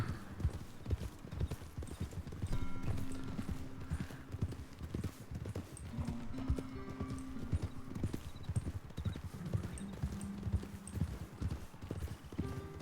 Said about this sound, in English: But this is definitely their horses. Yeah. There's a lot of horses here.